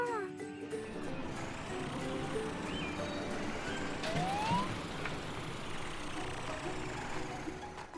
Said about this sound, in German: Tom hat deine Sirene gehört, Amber, und er ist auch der Meinung, dass du